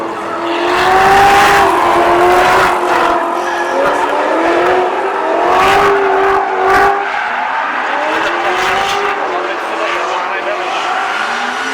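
A drift car at a drift event revs hard in loud, rising and falling engine sweeps, with tire squeal and repeated surges, while a commentator talks over it.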